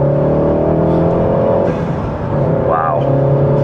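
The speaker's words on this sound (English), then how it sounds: "and then the blow-off as you depress the clutch to grab the next gear." Mk7 VW Golf GTI Clubsport S turbo engine droning loudly from inside the car, then a brief dip and a short rising-falling blow-off whistle as the clutch goes in for a gear change.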